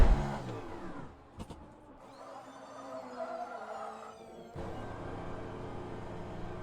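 A race car engine in Le Mans Ultimate revs and whines as it pulls away from a pit stop, rising then dipping, with a steady engine drone taking over near the end.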